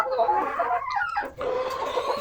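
Bantam chickens, including Silver Laced Bantam Wyandottes, cluck and chatter in a coop with short, close, warbling calls and a brief rising squawk partway through.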